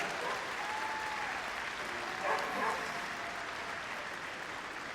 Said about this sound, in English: we're going to give them a big round of applause when we announce it